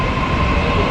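A metro train ride gives a loud, steady rumble and roar of the moving carriage, continuous and close, with no voices heard.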